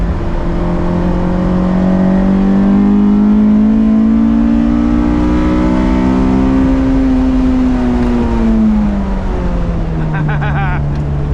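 A K24-swapped Honda S2000 engine revs hard nearby on a track, its droning pitch climbing slowly then dropping away as it passes.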